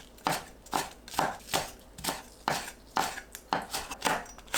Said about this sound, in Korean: 파는 6cm 길이로 채 썰어줍니다.